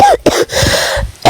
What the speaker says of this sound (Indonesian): Batuk adek bang.